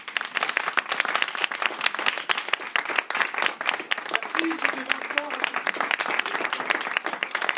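Warm applause from an audience for a one-man show comedian, brisk dense clapping that carries on throughout while a voice speaks briefly over it.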